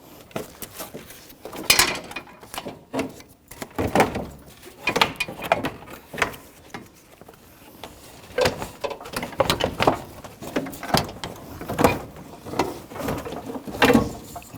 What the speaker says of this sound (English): So now we can take our new radiator with the fan assembly and slide it back in.